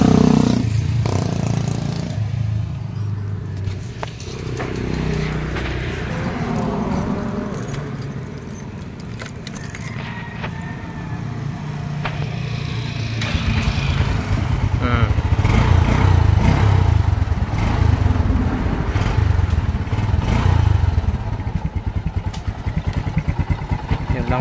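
A Bajaj 125 motorcycle, just cleaned after refusing to start on a weak battery, idles steadily and close by, its engine note rising louder in the second half, with a faint jangle of keys near the start.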